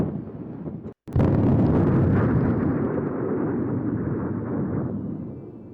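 A torpedo fires in a Kursk K-141 submarine video game: a sudden loud blast after a brief cutout, then a long rumbling roar that slowly fades.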